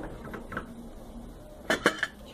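A glass plate is set down on a kitchen counter beside a pressure cooker, giving a few light clinks and a sharper pair of knocks near the end, quiet and close.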